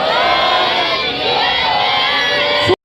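A Sikh congregation answers with a loud, sustained jaikara, many voices shouting together in one long roar that cuts off abruptly at the end.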